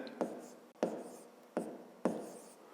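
Close, quiet pen writing on paper during a fifth-grade math exercise on expressions with a variable, with steady scratching and four crisp stroke or tap accents spaced about a second apart, no voice present.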